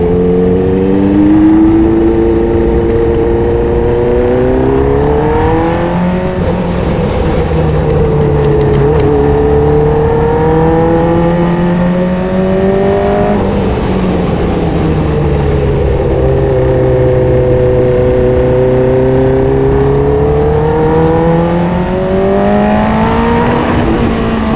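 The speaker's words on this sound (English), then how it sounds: "let you guys just enjoy the noise, the natural noise of a Formula 1 car from the 70s" A 1970s Formula 1 car with a Cosworth DFV V8 engine being driven, its loud, raw engine note rising and falling through repeated gear changes and revs, heard close and continuous for about twenty-five seconds with no talk over it.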